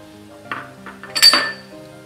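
Dry ingredients such as white flour and salt are tipped into a large mixing bowl for garlic paratha dough, giving a couple of soft clinks and a brief clatter of utensils against the bowl, close and fairly quiet.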